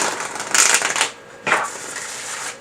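Two quick bursts of glossy oracle cards being riffle-shuffled close by, a crisp flutter, a pause, then a shorter second shuffle.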